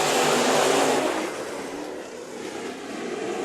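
IMCA modified race cars roar off the start of a heat race at Bakersfield Speedway, a loud, sustained wash of engine noise from a pack of cars that swells and dips slightly.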